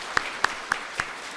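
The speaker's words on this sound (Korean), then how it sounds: "우리 찬양 성가대 앙상블 박수하겠습니다." A church congregation at a Sunday service applauds in rhythm: four evenly spaced, crisp claps ring out over a low room murmur.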